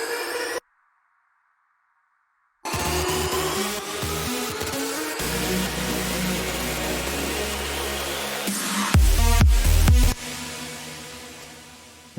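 A noise sweep effect in an electronic future rave track, a broad rushing hiss that builds under thumping synth layers and booming low hits, loud and continuous after a brief silence.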